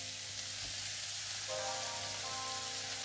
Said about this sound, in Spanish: Vamos a empezar poniendo esto en nuestra sartén.